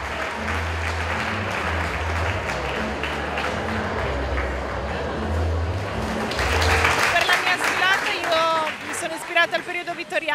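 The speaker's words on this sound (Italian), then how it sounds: "Un grande applauso, grazie ragazze" An audience at a televised ballroom dance show applauds the models, a dense continuous wash of clapping that swells toward the end with a few shouts and voices mixed in.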